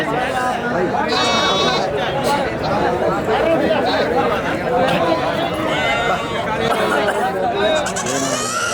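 Goats bleat repeatedly at a busy livestock market in Kunnathur that trades goats and chickens, their calls rising over dense, constant crowd chatter and nearby talking.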